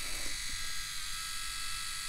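A Tac Razor electric shaver runs with a steady high-pitched motor whine and buzz, close and continuous throughout, with no talk.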